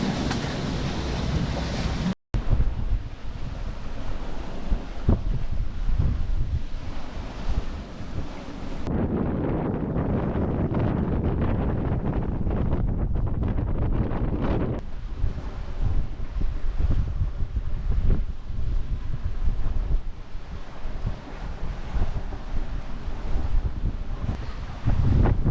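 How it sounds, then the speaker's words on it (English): Strong wind buffeting the microphone over surf and waves on a Scottish coast near Cape Wrath while on a solo sailing trip, a steady loud roar with brief gusts. "there's worse places to be stuck, waiting for the wind to change direction"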